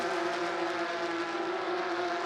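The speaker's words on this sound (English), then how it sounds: "Sound of these cars, absolutely glorious here in the Ardennes Forest." Porsche Carrera Cup race cars at the Spa-Francorchamps circuit in the Ardennes Forest make a steady, loud engine roar. A sustained tonal whine runs throughout, with no talk.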